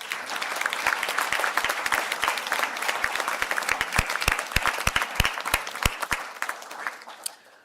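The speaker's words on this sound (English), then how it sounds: "I ask the graduates of each of these programs to stand for a round of applause" A graduation conferring audience applauds as graduates stand, a dense wash of clapping with louder individual claps standing out near the microphone, fading slightly toward the end.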